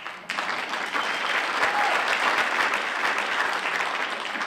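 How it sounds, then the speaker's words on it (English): A live show audience at Freedom Hall breaks into steady, loud applause that starts suddenly and keeps going, a dense patter of many hands clapping together. "But everybody else is applauding."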